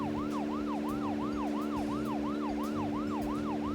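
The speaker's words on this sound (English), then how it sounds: "Nothing but the tones of a police car siren and investigation music just emitting from these speakers." A police car siren from the Deadly Premonition video game wails in a regular, repeating up-and-down cycle over steady sustained music tones, with no talking.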